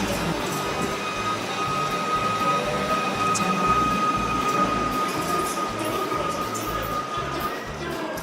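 Steady low rumble and rattle inside a cramped, moving international passenger train carriage, continuous and even throughout, with faint murmuring in the background.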